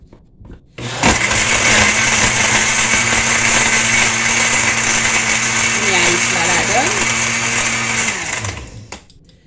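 An electric blender whirs loudly and continuously for about eight seconds as it blends papaya juice with ice, then winds down and stops.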